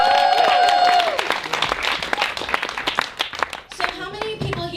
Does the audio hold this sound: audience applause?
yes